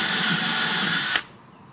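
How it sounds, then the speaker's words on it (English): A power drill pre-drills screw holes through scrap wood for a dog house, running steadily at close range, then stopping abruptly with a brief knock, leaving near silence. "So when you pre-drill the holes, make sure you go about 3/4 of the way"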